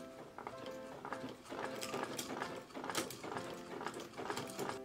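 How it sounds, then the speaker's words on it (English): An antique 1900 Frister & Rossmann sewing machine stitches at close range, giving a rhythmic mechanical clatter of gears and needle strokes in uneven bursts. "we should try and bring the bobbin thread up to the top, and then we're gonna try sewing it"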